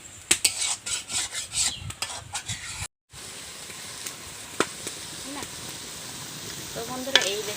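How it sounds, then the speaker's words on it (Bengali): Spices with salt and turmeric fry in a pan, with rhythmic stirring scrapes over a sizzling hiss that cuts out briefly, then a quieter steady frying with scattered spoon taps; no speech. "এখন আমি ভালোভাবে মশলার সাথে কষে নেব।"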